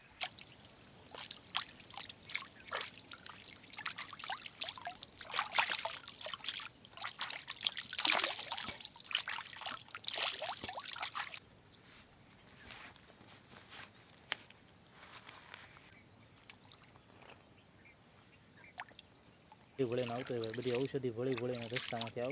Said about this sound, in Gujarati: અહીંયા ઘડીક હાથ પગ ધોઈ નાખીએ મસ્ત ફ્રેશ થઈ જઈએ